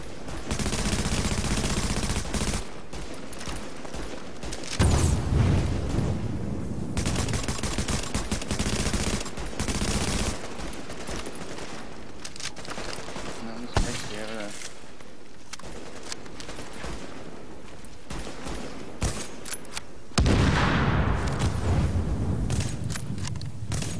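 An RPK machine gun fires in The Division, with long sustained bursts of rattling automatic fire and a few louder, heavier stretches across twenty-odd seconds, while voices are heard alongside.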